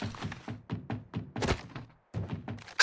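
Weapon reloading in Apex Legends: a rapid series of about ten dull mechanical thunks and clicks, close and clear, with a short gap near the end.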